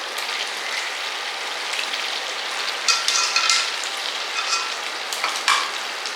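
Potatoes frying in a pan over a medium flame, a steady hiss of bubbling oil with scattered light crackles and brief louder spurts, close and without talk.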